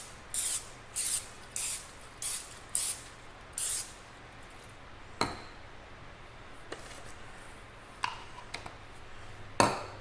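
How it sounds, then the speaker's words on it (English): Cooking spray hissing onto smoker trays for venison jerky, six short bursts in quick succession followed by a few sharp clinks and taps of metal trays in a quiet room. "Alright, so got some cooking spray."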